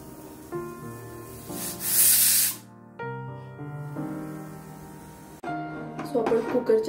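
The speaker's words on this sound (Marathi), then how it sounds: "सो आपण कुकरच्या 2 शिट्ट्या काढून घेतल्या आहेत" A pressure cooker holding chicken for yakhni pulao lets out a loud hissing steam whistle burst lasting about a second, set between stretches of background music, with a second rougher burst near the end.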